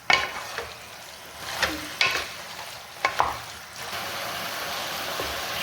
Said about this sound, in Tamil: இது நல்லா மிக்சர் அளவு நல்லா கிண்டி விடலாங்க. கறி நல்லா சூடேறட்டும்.